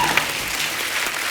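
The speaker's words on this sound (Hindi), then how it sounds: "एक बार जोरदार तालियां हो जाएं अक्षय पाजी के लिए" A TV comedy show's studio audience claps for guest Akshay Kumar in a brief, dense burst of applause that fills the whole moment without a break.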